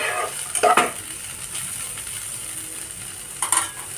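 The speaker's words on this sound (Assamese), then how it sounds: "লৰাই দিম এনেকৈ। অলপ সময় ভাজ লাগিবৰ কাৰণে দিম।" Paneer and capsicum fry in a pan with a steady, loud sizzle while a utensil stirs them, giving two brief scraping bursts against the pan.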